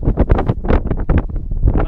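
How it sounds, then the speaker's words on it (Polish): Strong wind roars across an open snowy plateau in Hardangervidda, buffeting the microphone in loud, close, rapid gusts that pulse throughout. "Na siłę wiatru raczej nie będę narzekał."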